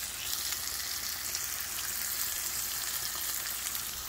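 Over easy eggs frying on a griddle, a constant bright sizzle with no breaks, moderately quiet and close, no talk.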